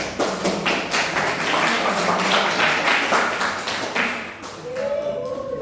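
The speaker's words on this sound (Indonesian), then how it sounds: "Kita beri aplaus dulu" Classmates applaud group 3 after their presentation in a basic natural sciences class, a brisk, sustained round of clapping from a room of students that tapers off near the end as a voice begins speaking.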